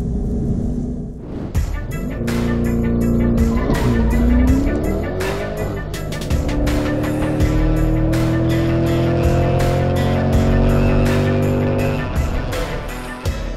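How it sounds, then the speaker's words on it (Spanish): A 2020 Chevrolet Corvette driven fast on a dry race track, its engine roaring loud and close as it revs up and down through the gears, with tire noise, continuous throughout. "Ya en pista seca y en manos de los pilotos del circuito, el Corvette vuela."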